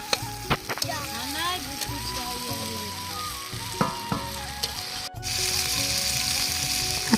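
Pond-caught fish frying in a pan at a family picnic, a steady close sizzle with occasional stirring clatter and faint voices in the background.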